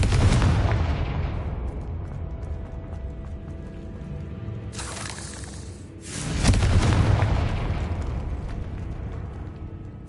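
Loud, booming fire-spell explosions in the PS5 game Hogwarts Legacy, two heavy blasts with long rumbling tails filling the clip, one near the start and another after a brief lull.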